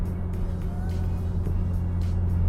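Car driving along a road, recorded from a camera on a suction cup mount, with a steady low engine and road rumble that stays even and close throughout and no talk.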